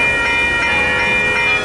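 Train passing through Hastings city centre, a loud steady rumble with sustained horn-like tones and faint rhythmic pulses, continuous and close.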